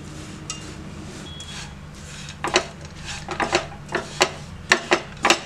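Peanuts are stirred into hot jaggery syrup in a pan off the heat, giving irregular scraping and rasping strokes that grow louder and more frequent toward the end, alone without talk.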